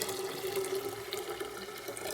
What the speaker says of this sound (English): And let's add that water to our reservoir.